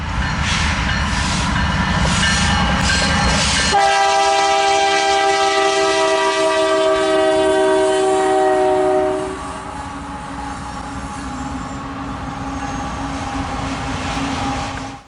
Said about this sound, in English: The Gevo leading had a very nice sounding K3H horn